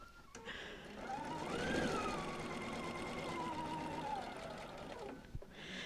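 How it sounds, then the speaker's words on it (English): A sewing machine stitches quilt fabric blocks for a few seconds, a soft mechanical whirring that rises and settles before stopping. "take all of these together to my sewing machine"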